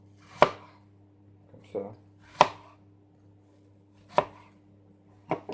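Sharp knife chops through apples on a cutting board for a tarte Tatin, four distinct crisp thuds spaced about a second or more apart, close and clear, with a short spoken remark in between.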